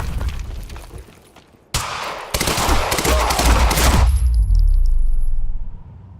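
Gunfire in Quantum Break, a dense, loud burst of rapid automatic fire with booming impacts, lasting a few seconds before fading into a low rumble and a faint high ringing tone.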